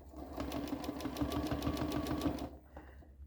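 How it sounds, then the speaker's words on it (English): A sewing machine does free-motion stitching around a star on a table runner, making a quiet, fast, even rattle of needle strokes for about two and a half seconds before it stops. "I'm going to stitch very, very close to the edge of the star"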